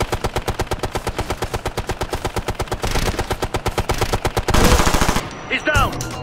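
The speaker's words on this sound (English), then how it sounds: "Gunner on an MG!" Sustained automatic machine gun fire in a Ghost Recon Future Soldier game firefight, rapid evenly spaced loud shots filling the clip, with more gunfire layered in and a voice shouting near the end.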